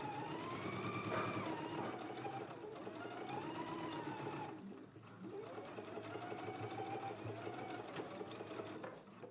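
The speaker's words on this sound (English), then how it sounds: "Let's stitch it now, catching in that lower edge." A sewing machine stitches steadily across the lower edge of a t-shirt facing, its motor whirring in a continuous near run with a short pause midway before resuming.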